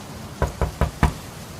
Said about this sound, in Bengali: দুমদুম করে আঘাত হলো